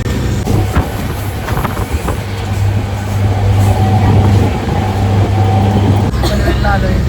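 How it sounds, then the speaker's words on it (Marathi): Steady low rumble and rattle of a passenger train ride just after boarding, a continuous vehicle drone with occasional clanks, with faint voices in the carriage. "ट्रेनमध्ये चढलो."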